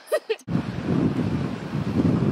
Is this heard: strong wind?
yes